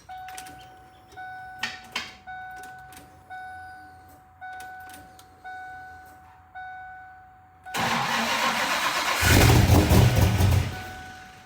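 A Ford Mustang SN95 whose ignition timing may be set a little high: a chime repeats steadily at first, then the engine fires up and runs loud and close, swelling briefly as it revs.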